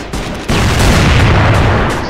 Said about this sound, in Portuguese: Me deram tiro.